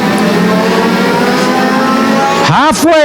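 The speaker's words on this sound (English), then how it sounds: "Ken McNicol Jr., your race leader in car number 63" Race cars in an Ontario Legends Series event at Sauble Speedway roar past, a loud sustained engine drone that suddenly shifts pitch as cars pass close by near the end, with track announcing underneath.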